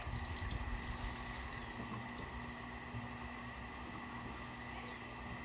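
Water pours steadily into a fish tank holding mojarra, a continuous rushing flow with a steady hum, constant and fairly close throughout with no talking.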